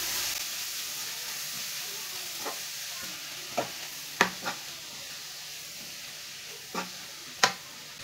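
Grated carrots frying in a pan for gajar ka halwa, with a soft, steady sizzle and a handful of sharp, scattered scrapes of a spoon stirring them, fairly quiet and close, with no talk.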